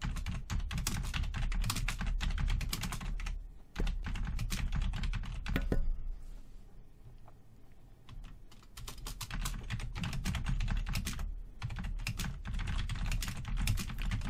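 Steady typing on a computer keyboard, close and brisk, with rapid key clicks in bursts and a couple of short pauses, no voices over it.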